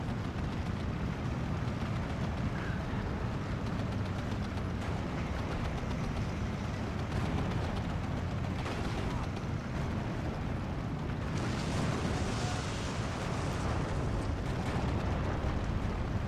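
Tanks firing in the video game Steel Division II, a dense continuous barrage of booms and blasts rumbling under battle noise, with a brief spoken word.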